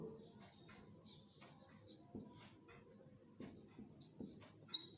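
Chalk or marker scratching on a board during a Class 10 maths lesson on triangles, a steady run of short scribbling strokes, close and moderately quiet, with a teacher's voice partly under it.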